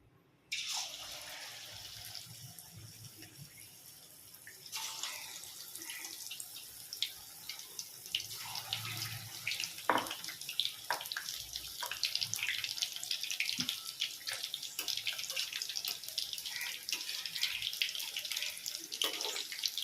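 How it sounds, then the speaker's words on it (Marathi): Chicken lollipops frying in very hot oil at home, a steady broadband hiss and crackle that swells after the pieces go in and keeps up with scattered pops and sputters throughout. "चांगलं कडकडीत तापलं की आपण ह्याच्यात लॉलीपॉप घालूया"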